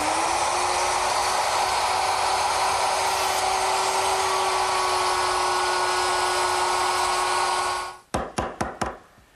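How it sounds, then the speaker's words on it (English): A router cuts a dado in wood on a second pass, its high steady whine running loud and unbroken for about eight seconds before stopping abruptly, followed by a quick series of four sharp knocks. "now when I make the second pass, the dado will be the right width to receive the 3/4 inch thickness of the side"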